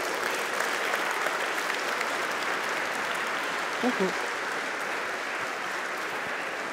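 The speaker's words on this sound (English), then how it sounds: "Big applause." Conference audience gives a speaker sustained, even applause, a dense wash of clapping that holds steady throughout while a voice briefly says thanks over it.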